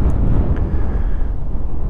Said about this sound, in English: a bit windy innit